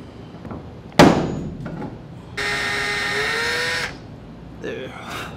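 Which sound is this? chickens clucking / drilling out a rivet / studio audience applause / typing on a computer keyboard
drilling out a rivet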